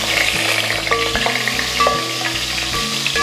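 Whole spices (mace, cardamom, cloves, star anise, cinnamon, bay leaves and cumin) being stirred in a hot pot for fish dum biryani, a continuous close sizzle with light scraping stirs.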